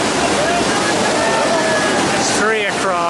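Flash-flooded river in Baltistan surging across a road crossing: a loud, steady, broadband roar of rushing water fills the whole clip, with a voice briefly heard near the end.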